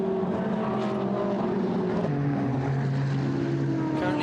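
Von Ryan Racing McLaren race car in a Blancpain Endurance Series race at Paul Ricard, a loud sustained engine drone with shifting pitch, steady and continuous, with faint talk underneath.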